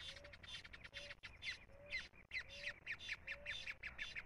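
A casaca-de-couro bird sings over the Acaraú river, giving repeated harsh, squawking chattered phrases with brief pauses between bursts, faint and somewhat distant outdoors with no talking.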